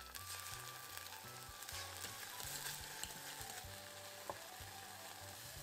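Tomato paste, chili paste and soy sauce sweat in a pan with a steady quiet sizzle and hiss, alongside a low rhythmic mechanical hum, with no speech.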